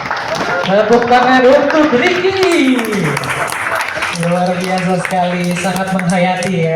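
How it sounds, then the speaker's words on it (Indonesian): An audience applauds a poetry reader at a live literary performance, a broad wash of clapping running beneath a host who keeps speaking throughout. "Tepuk tangan untuk Ricky."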